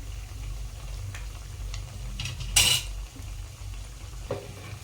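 Sabudana vada frying in a pan as the pieces are slowly turned over, a soft sizzle under light metallic scrapes and one sharper clink of a utensil against the pan.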